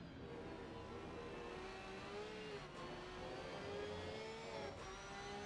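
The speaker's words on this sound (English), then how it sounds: "The Porsche working quite well out of these slower corners on the traction. Sounding great as well." Porsche GT3 race car accelerating out of a slow corner at Valencia, the engine note climbing steadily through the revs, loud and continuous, with no talk.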